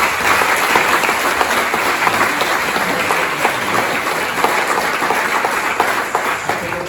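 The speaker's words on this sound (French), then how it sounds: "je crois qu'on peut l'applaudir" Audience applause for a speaker at a talk on suicide postvention, dense sustained clapping from a sizeable crowd that holds steady throughout before tapering slightly at the end.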